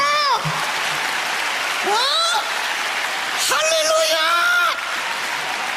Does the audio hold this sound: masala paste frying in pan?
no